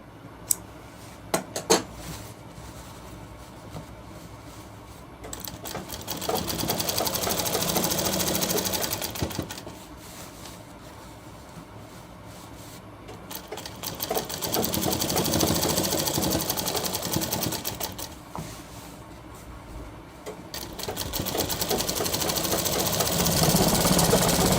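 A sewing machine stitches a shirt sleeve in three sustained runs, a steady whirring rattle that rises and falls with short pauses between bursts, preceded by a few sharp clicks.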